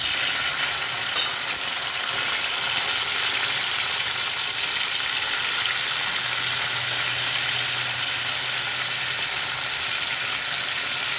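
Boiled peanuts fry in hot oil for a drumstick curry, giving a constant, even sizzle with a soft crackle throughout.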